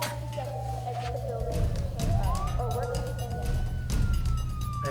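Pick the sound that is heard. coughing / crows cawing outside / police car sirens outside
police car sirens outside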